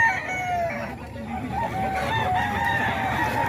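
Thompson White gamecock roosters crow loudly and close by, with several long, overlapping calls and some clucking running continuously through the clip.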